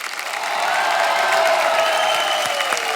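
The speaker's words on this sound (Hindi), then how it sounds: "एक बार जोरदार तालियां हमारे मेहमानों के लिए।" A comedy show audience gives the guests a loud, sustained round of clapping, a dense continuous roar of hands with faint cheers, holding steady for the whole stretch.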